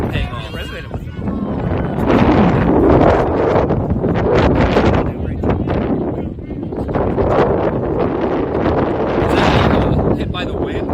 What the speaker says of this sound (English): Hit by the wind? Is that what that was?